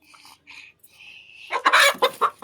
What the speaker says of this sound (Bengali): এটা পোলট্রি মুরগি না, এটা দেশি, বাড়ি থেকে এই দেশি মুরগি।